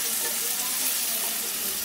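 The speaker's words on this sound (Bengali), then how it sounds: "দিচ্ছি এর মধ্যে কুচানো পেঁয়াজ, এগুলোকে 1-2 মিনিট একটু ভেজে নিচ্ছি" Chopped onions frying in a pan, a steady close sizzle with soft crackle running evenly throughout, no voices.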